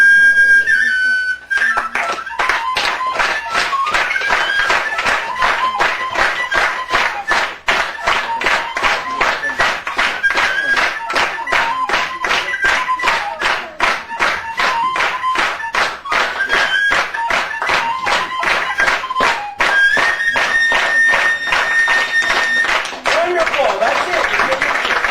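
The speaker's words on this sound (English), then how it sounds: "That was an old Irish tune, the 10-penny bit." A fife and drum corps plays a lively old Irish jig, shrill fife melody over steady rhythmic beats, joined by an audience clapping along in time for the full length, close and loud.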